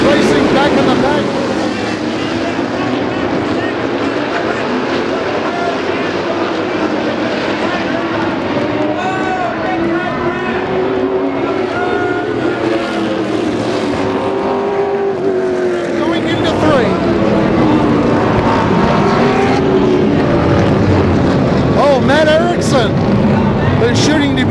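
Late model race cars battle in the pack on a short track at a LoanMart shootout, engines roaring loud and continuous with rising and falling pitch as cars sweep past, an announcer talking over them.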